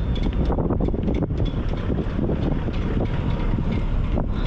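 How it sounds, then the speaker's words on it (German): A strong gust of wind roars across a boat out on the water, steady and loud, buffeting the microphone throughout. "Und die nächste Böe kommt."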